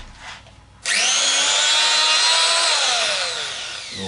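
An overhauled angle grinder switches on abruptly, its whine rising to full speed and holding loud and steady for a few seconds before starting to wind down.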